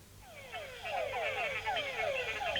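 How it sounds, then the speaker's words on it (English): A mud puddle frog, known locally as pung lala, calls in a rapid series of descending, twangy notes, repeated about ten times in quick succession, fairly close and steady against a faint background. "it's a type of frog known locally as a pung lala, because of the noise that it makes"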